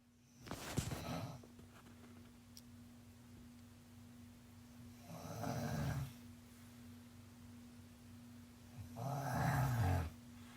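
A monkey snoring in slow, faint rhythm, three drawn-out rasping breaths spaced a few seconds apart over a steady low electrical hum, close by and quiet, with no talk.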